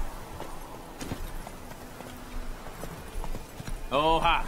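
Horse hooves clip-clop in the video game The Witcher 3, soft and steady over a low game ambience, with a short voiced horse whinny near the end.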